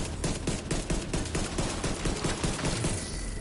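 Fast, steady automatic fire from a weapon loaded with special ammo in The Division 2, a continuous loud rattle of evenly spaced shots with no talking.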